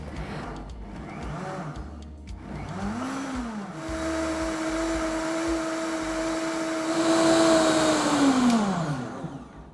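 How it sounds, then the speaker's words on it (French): Countertop blender whirring as it purees mango, spinach, banana, lime juice and coconut water into a smoothie, a steady motor drone about six seconds long that rises in pitch and then winds down. "Et là, on va mixer tout ça et on va obtenir un smoothie délicieux."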